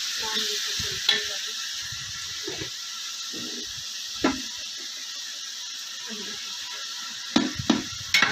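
Chicken pulao masala with tamarind frying in a pot, a steady soft sizzle throughout with occasional clinks and scrapes of stirring, no talk.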